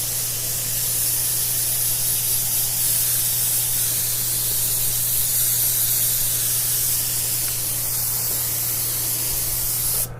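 A cheap Harbor Freight airbrush sprays UV body paint in a steady, loud hiss that runs almost without a break, with a low electrical hum underneath.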